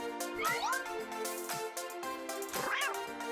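A cartoon kitten meowing in the mobile game Avatar World, two or three high rising meows over steady background game music, close and clear.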